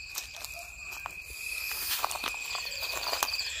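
Scattered crackles and rustles moving through undergrowth against a constant high insect drone, growing a bit busier toward the end.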